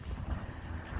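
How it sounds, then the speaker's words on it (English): Highway traffic rumbling beside a Pacific Crest Trail hiking spot, a low steady roar with wind buffeting the microphone, fairly quiet and continuous with no talk. "And I'm right by a highway, sorry about that noise."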